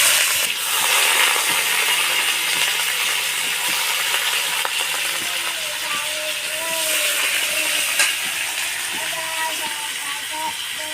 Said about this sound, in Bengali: এবার আমি আলুগুলোকে ছেড়ে দেবো